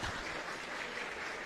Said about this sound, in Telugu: చాలా తక్కువగా చప్పట్లు మోగుతాయి,